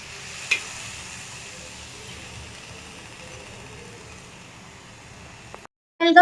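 Egg Maggi noodles being stirred in a pan, a steady soft sizzle with scraping under it and one sharp clink near the start, alone without talk, ending in a brief louder clatter.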